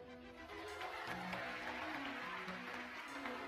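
Crowd applause at a Prabowo political speech, a steady moderate wash of clapping from a large audience that swells in and holds, heard from a distance with no speech.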